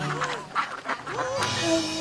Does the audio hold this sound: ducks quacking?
yes